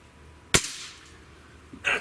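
A Magnum GR breakbarrel air rifle fires one sharp, close shot with a short ringing tail, and a quieter second noise follows near the end.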